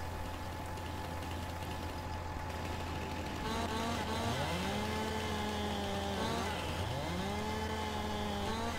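A chainsaw in Landwirtschafts-Simulator 19 revving up and cutting a log, with rising and falling engine whines over a steady idling hum.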